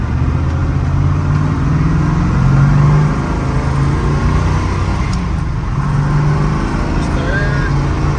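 A 1968.5 Ford Mustang R-code 428 Cobra Jet, a Tasca Ford drag-racing demo car, pulls hard in second gear with a deep, loud, rumbling exhaust note that holds steadily, heard from close up inside the car.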